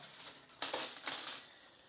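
Euro coins drop and clink against each other close up as they are counted, with a few distinct metallic jingles over a soft, steady rustle.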